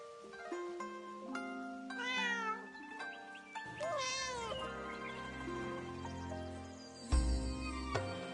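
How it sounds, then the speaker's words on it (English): A black cat on a dock in the video game Where Winds Meet meows several times in rising, drawn-out calls over soft game music, close and clear with no talking. "I forgot to pet that black cat I saw on the dock back there"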